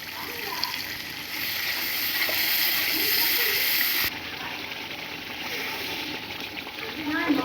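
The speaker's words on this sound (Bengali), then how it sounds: "দেখেন, দিয়ে দিচ্ছি অল্প পরিমাণে জল।" Water is poured into a pan of sizzling poppy seed paste with green chilli, giving a gushing, hissing sizzle that settles into a softer fry, with a voice speaking over the cooking.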